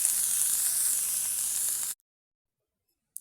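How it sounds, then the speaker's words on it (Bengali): Onion, garlic and bottle gourd leaves fry in a little oil with a steady, close, hissing sizzle that cuts off abruptly into silence, with a faint tap at the very end. "দেখুন পেঁয়াজ, রসুন এবং লাউ পাতাটাকে আমি সুন্দর করে ভেজে নিচ্ছি, হালকা একটু তেল দিয়ে"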